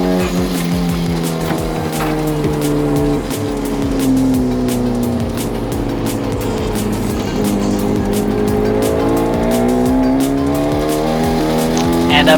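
A Hyundai Genesis Coupe with a rebuilt engine on a fast lap at Stratotech track: loud, sustained engine roar rising and falling through gears with brief tire squeal, heard close from inside the car.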